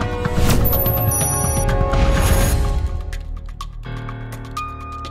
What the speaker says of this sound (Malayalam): ചേട്ടന്റെ ഫോൺ റിങ്ങിയുണ്ട്.